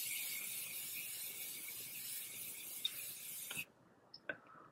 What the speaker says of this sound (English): So I'm first going to set my face using this Morphe setting spray.